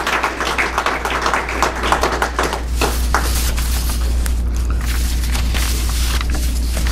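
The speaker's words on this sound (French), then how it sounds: "nous aimerions sincèrement remercier la présidente sortante et tout son bureau exécutif, que je vous demande d'applaudir" Audience applause at an association gathering for the outgoing president and her executive board, a dense, steady wash of many hands clapping that holds at an even level throughout.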